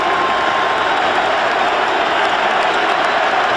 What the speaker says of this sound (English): Crowd chanting Jerry, Jerry, as Brian tacks on the point after.